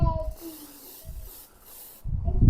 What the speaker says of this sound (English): Make sure you spray your cake pans